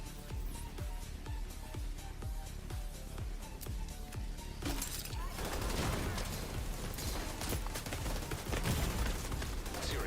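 An enemy tank firing at the player in The Division 2 video game: a loud, dense barrage of rapid gunfire and blasts that runs without a break and grows heavier partway through.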